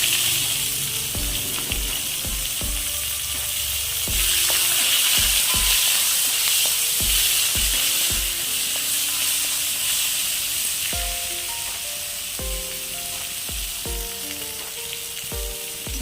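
Crushed garlic and small shallots sizzling loudly in hot oil in a pan, a continuous bright crackling hiss close up, with rhythmic low knocks and scrapes of a spoon stirring throughout.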